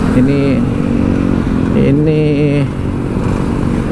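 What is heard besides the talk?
Kawasaki Meguro S1 motorcycle engine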